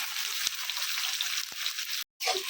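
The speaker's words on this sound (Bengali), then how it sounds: "এদিক থেকে পেঁয়াজগুলো ভাজা হোক" Onions fry in a wok with a steady, moderately quiet hiss, broken by a couple of soft knocks and a short dead gap near the end.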